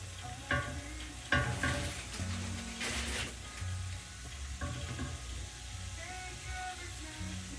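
Chanterelle mushrooms sizzle and fry steadily in a pan while being cooked dry, with stirring clatter and scraping of a utensil against the pan over a continuous hiss.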